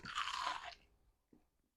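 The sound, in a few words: crunch of biting beer-battered coconut shrimp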